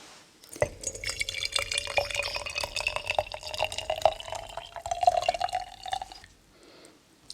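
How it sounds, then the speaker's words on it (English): Tea pours steadily into a cup, a trickling stream rising in pitch as the cup fills, close up, then stops. "I have my tea here, and it is kind of the last of my Betty's tea stash, and I'm just going to pour some."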